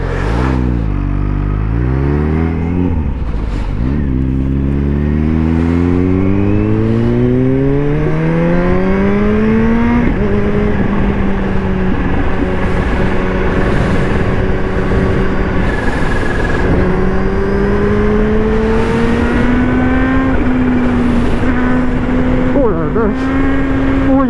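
A BMW S 1000 RR superbike accelerating hard, its loud close engine climbing through rising whines with gear changes and long sustained pulls, a rider's voice heard over it at times.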